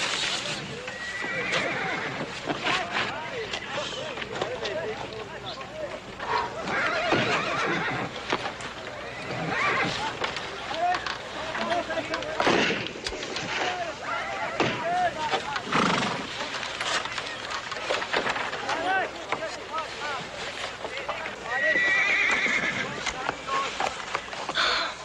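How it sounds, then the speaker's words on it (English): Horses neigh and whinny repeatedly at a ranch in a Western TV drama, with hoof clatter and stamping mixed in, busy and fairly loud, with voices speaking over the animal noise. "I want to see the horses."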